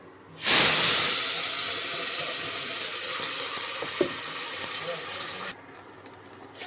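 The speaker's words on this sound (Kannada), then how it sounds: "ನೋಡ್ರಿ ಈಗ ಮಸಾಲೆ ಮಸ್ತ್ ಈಗ ಫ್ರೈ ಆಗ್ಲಕತ್ತದ" Masala sizzles loudly in hot oil in a home kitchen, a steady broadband hiss starting abruptly and holding for about five seconds before cutting off, with one brief clink partway through.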